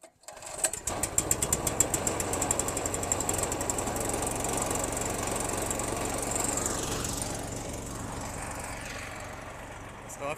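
Small petrol engine starting and running at a garden, a loud close mechanical chatter that sputters briefly then settles into a steady rough drone for several seconds, with some voices faintly mixed in.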